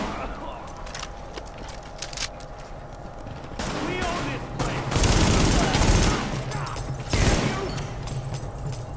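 Gunfire in the shooter game The Division rattles in dense fusillades and bursts, mid-distance and growing heavier midway, under overlapping voices and game sounds.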